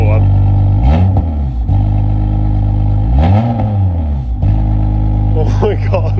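BMW M2 Competition with a modified exhaust revving hard in repeated sharp blips, each rising and falling in pitch with crackles in between, loud and close alongside excited voices.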